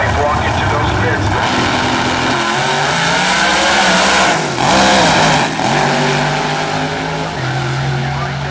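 Nitrous pro mod drag car launching at a drag strip, a loud raw engine roar climbing through repeated gear shifts over about eight seconds, with an announcer talking over it.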